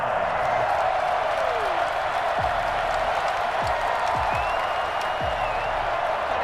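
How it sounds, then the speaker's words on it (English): Simulated stadium crowd applauding and cheering for the defense in the Madden 21 football video game, a continuous broad roar of clapping and crowd noise with occasional whistles and sweeping tones over it. "How about some applause for the defense there?"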